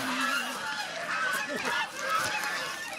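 Geese at a goose farm honk repeatedly, close and fairly loud, the calls overlapping one another in a continuous nasal chorus.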